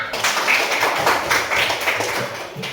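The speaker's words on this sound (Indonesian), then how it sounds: "Tepuk tangan untuk Azara." Classroom group clapping for a student named Azara at a school guidance session, a dense, steady patter of hands lasting a few seconds at close range, no talking over it.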